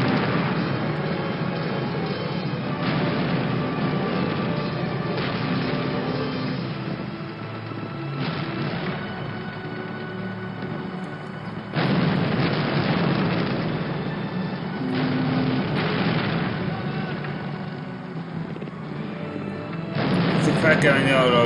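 Heavy rumbling explosions and blasts from a Call of Duty war game as Berlin is blown up, booming bursts recurring under continuous loud battle noise.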